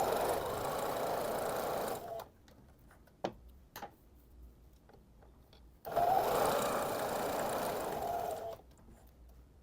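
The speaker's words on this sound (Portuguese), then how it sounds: "a gente vai na máquina reta passar uma costura aqui e aqui" Straight-stitch sewing machine running in two bursts while sewing a half-presser-foot seam at the bust of a dress, a steady mechanical whir with a quiet pause and a few clicks between the runs.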